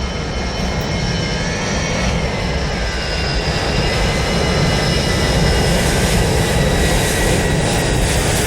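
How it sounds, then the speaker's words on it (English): Sustained jet roar of an airliner taking off in Microsoft Flight Simulator 2020, a loud, steady engine drone with rising whine tones, continuous throughout with no voices. "We can watch this plane take off."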